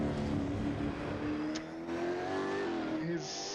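A 1.6 Nissan Altima race car in the Assetto Corsa racing game holds a loud, steady engine drone with a slowly rising pitch, alone and up close throughout.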